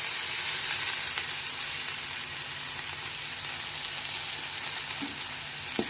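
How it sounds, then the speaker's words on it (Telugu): Onions fry with soy sauce in a pan, producing a strong, even sizzle close by that runs the whole time with a couple of faint utensil clicks and no speech. "ఉల్లిగడ్డలు ఇలా సోయా సాస్ వేసుకోవాలి."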